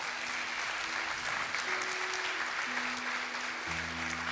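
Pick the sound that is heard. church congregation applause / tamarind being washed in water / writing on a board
church congregation applause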